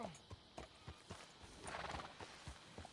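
Horse hooves clip-clop at a steady walking pace in the Red Dead Redemption 2 video game, with a whinny rising partway through; the sound is fairly quiet and sits under background game ambience.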